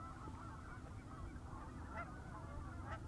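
Canada geese honk in a few faint, distant bursts over a steady low rumble of wind on a snowy day, with no one talking.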